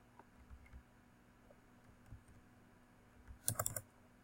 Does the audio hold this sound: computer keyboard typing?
yes